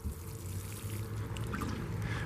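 Water pouring onto frost-damaged tomato plants in a garden, a steady continuous splashing trickle at close range with no talking.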